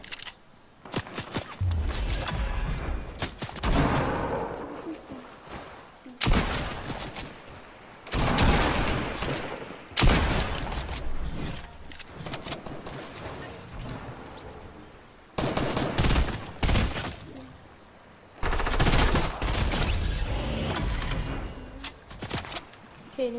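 Bursts of automatic gunfire and rapid shots in a video game firefight, loud and repeated in clusters across the clip, with players talking in between.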